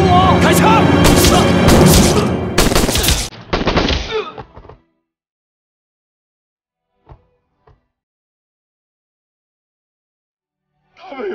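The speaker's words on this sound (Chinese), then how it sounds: "站好了，举枪。 张司令，他们都给你卖过命了，还都是孩子呀！ 师父，师父，救我！ 开枪！" A firing squad in a Chinese period TV drama lets off a loud, dense burst of rifle shots lasting about four seconds, then near silence broken by a couple of faint, distant thuds.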